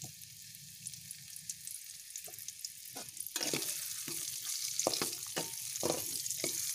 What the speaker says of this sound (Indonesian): Kita tumis sampai harum ya